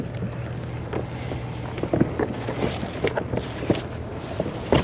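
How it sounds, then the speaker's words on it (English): A big boat passes with a steady low rumble and wash, heard from a kayak, mixed with water splashes and scattered knocks close by. "We got this big boat going by."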